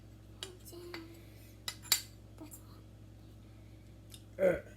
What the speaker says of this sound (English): Scrape it out. Scrape all the butter out.